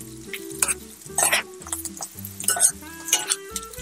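Onions frying in a pan with slit green chillies, mint and coriander while being stirred, with sizzling under repeated scraping and clinking strokes of a spoon against the pan at a steady rhythm.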